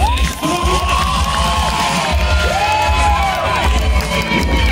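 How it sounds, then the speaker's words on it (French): A theme-park audience at Avengers Campus Paris cheers and whoops during a live guitar segment with Gamora, loud shouts and children's voices rising over clapping and a low, thumping musical backing. "On peut l'applaudir."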